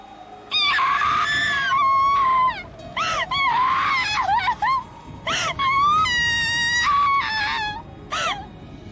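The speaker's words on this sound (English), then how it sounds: "Jessica tried to fill her ears with the sound of her own screaming." Jessica screaming in Umineko no Naku Koro ni, a voice letting out repeated shrill wailing screams with sharp bends in pitch, loud and close, broken by short gaps and sobbing moans.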